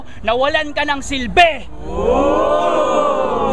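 A crowd at a Sunugan rap battle lets out a sustained, swelling roar and cheer right after a rapper's spoken line, holding steady and loud to the end.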